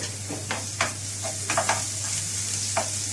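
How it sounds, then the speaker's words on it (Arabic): Two garlic cloves are dropped into a frying pan with eggplant already browning in hot oil, giving a steady sizzle with a few scraping stirs over it. "عندنا بقى كده فصين من الثوم ننزل بيهم"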